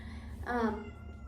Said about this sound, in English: sorry if you can hear my cat in the background, she's in heat